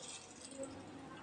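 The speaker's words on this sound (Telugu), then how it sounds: "ఆయిల్ వేసుకుందాము." Cooking oil pours into a pot on the stove for vada pulusu, a soft, steady liquid trickle lasting about a second, fairly quiet and close.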